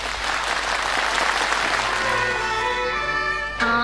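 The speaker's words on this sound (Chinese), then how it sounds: "来，我们掌声送给两位。" An audience claps for two Yue opera performers at a 2004 stage showcase, a dense wash of applause that gradually thins out while a musical tone rises beneath it.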